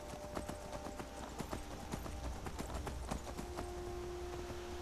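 Horse hooves clip-clop steadily in Skyrim, a rapid run of sharp hoofbeats over continuous game ambience and music, moderately loud, with no talking.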